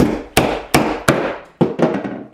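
Sharp, loud hammer blows driving nails into a wooden bird box, six or so strikes at an uneven pace with brief ringing after each, close by and without speech.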